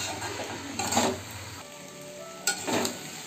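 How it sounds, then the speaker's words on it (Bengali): Banana flower curry, seasoned with sugar and a cumin-ginger paste, sizzles in a pan as it is stirred, with steady frying crackle and soft scraping strokes, close and alone. "এখন আর একটু নাড়াচাড়া করবো"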